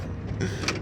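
A Honda Odyssey power sliding door with an opening and closing fault slides open in a short, close mechanical whir and rumble.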